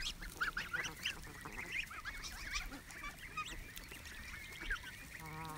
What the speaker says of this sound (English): I really want to pick this goose up though, really bad.